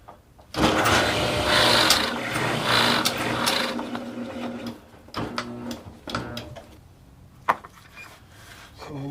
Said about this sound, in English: So we drill in about a little better than an inch.